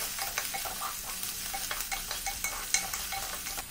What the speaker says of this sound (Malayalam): ഇതെല്ലാം കൂടെ ഈ എണ്ണയിൽ കിടന്നിട്ട് മൂത്ത് വരണം